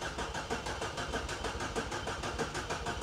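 Peugeot 205 car engine that has not run in three years starting up and settling into a steady rhythmic running throb, close and continuous, with no talk over it.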